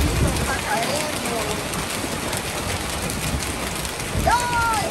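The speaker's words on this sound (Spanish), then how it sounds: "granizo está cayendo." Hail falling in a storm in New Mexico makes a dense, steady patter and rattle throughout, and a voice briefly speaks over it.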